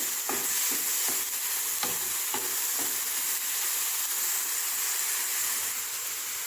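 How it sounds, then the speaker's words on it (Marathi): Onion paste frying until golden brown makes a constant close sizzle, broken by a handful of sharp utensil scrapes and taps from stirring early on, with no talking. "या कांद्याची पेस्ट गोल्डन ब्राऊन हो होईपर्यंत आपण भाजून घेणार आहे"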